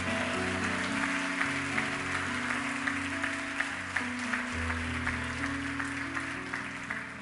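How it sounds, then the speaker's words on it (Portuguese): A church congregation claps steadily through the whole stretch during a worship service, with sustained keyboard music playing loudly underneath the applause. "Aplauda o Senhor Jesus por isso"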